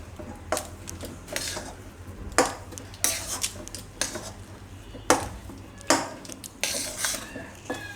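A spoon scrapes and knocks against a metal pan while a mixture is stirred into sugar syrup for Gujarati barfi churmu, with repeated clanks and gritty stirring strokes up close over a low steady hum.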